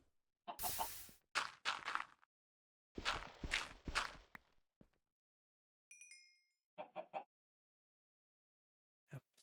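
Clucks from a Minecraft chicken stick in FTB Infinity Skyblock, several short bursts of game sound effects separated by silence, with a bright chime partway through.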